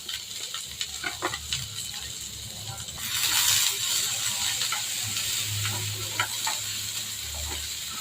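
Sliced big onions and curry leaves sizzle in hot oil in a pan for chicken lollipop gravy. Soft stirring clicks come first, then a louder sizzling hiss swells and settles into a steady fry.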